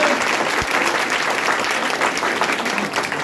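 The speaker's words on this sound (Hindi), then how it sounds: "एक बार अपने लिए भी जोरदार ताली बजाएं" Loud, dense applause fills a student felicitation ceremony hall for an exam final-selection honour event, a steady crowd clapping sustained for the whole stretch with no break.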